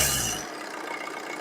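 The engine of a 2013 single-owner used car is revved in a shop, a brief loud roar that dies away into a quieter hiss within half a second.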